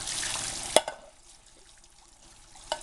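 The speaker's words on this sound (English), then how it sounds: "pour in a colander or any container where you could rinse it out and just rinse out the beans" Water runs over canned beans in a colander for a brief hissing rinse that stops abruptly with a clank, followed by quiet and a faint later knock.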